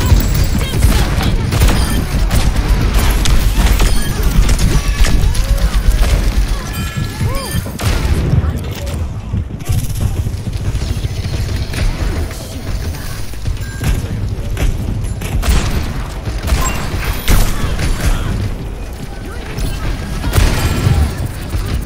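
A dragon fire attack in the video game Overwatch roars through a loud, dense barrage of booms, crashes and gunfire-like blasts that runs continuously, with a player talking over the chaotic match.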